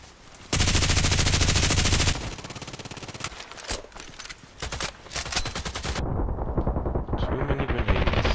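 Automatic RPK machine gun fire in the online shooter Contract Wars bursts out in a long, loud sustained stream, followed by shorter choppy bursts and scattered shots from the game battle.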